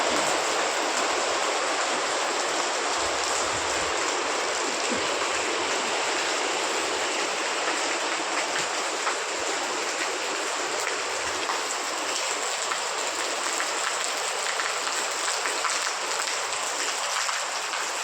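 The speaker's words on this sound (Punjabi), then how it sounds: "ਮੀਂਹ ਪੈ ਰਿਹਾ ਹੈ" Heavy rain pours at night in Mansa district, Punjab, a dense, loud, unbroken roar of falling water like a steady downpour on surfaces, with no voices.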